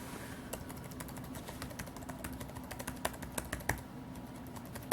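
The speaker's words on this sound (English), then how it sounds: "That's the sound of the keyboard." Lenovo ThinkPad T430 laptop keys click in quick irregular bursts, crisp and close, with a few louder taps standing out; no voices.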